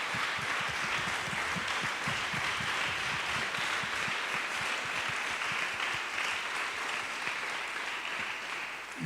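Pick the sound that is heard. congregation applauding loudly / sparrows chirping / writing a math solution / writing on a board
congregation applauding loudly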